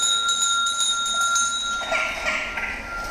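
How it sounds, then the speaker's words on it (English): A handmade bell made by an artist in honour of Tagore rings with steady, sustained high tones that linger and slowly fade, with a faint softer shimmer entering near the end. "This bell is made by Andrew Lacey, a great artist, handmade in honour of Tagore"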